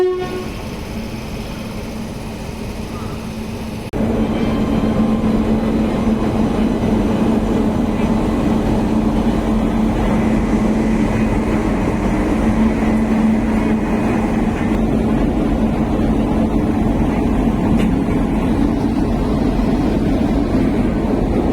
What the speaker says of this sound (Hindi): लोकोमोटिव लग चुका है।